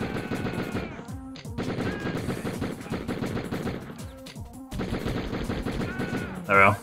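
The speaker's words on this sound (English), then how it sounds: "there's a fair bit of running and shooting" Repeated gunshots and bursts of gunfire from the video game Die Hard Trilogy, dense and loud over game music, with brief pauses and a sharp louder blast near the end.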